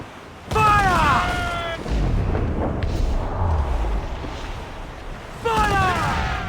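Ship cannons boom in an Assassin's Creed IV Black Flag naval battle, with loud heavy blasts and rumble under shouted orders and whistling, swooping sound effects at the start and end.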